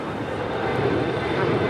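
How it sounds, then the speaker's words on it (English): An Emirates A380 airliner on short final at Los Angeles International Airport gives a broad, steady roar of engine noise, loud and continuous, with some faint talk mixed in. "And the Emirates A380 now short final for 24 rights."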